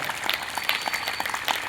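People at an outdoor International Yoga Day session in Varanasi clap briskly and enthusiastically, a close, lively patter of individual claps forming an uneven rhythm over a brief moment.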